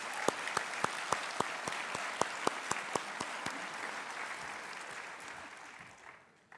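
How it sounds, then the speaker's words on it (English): Applause from a large graduation crowd honoring faculty and staff at a university business and technology school ceremony, with sharp individual claps standing out early before the clapping thins and fades. "a round of applause for our faculty and staff"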